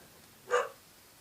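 A single short dog bark, faint and somewhat distant, standing alone in a quiet indoor room.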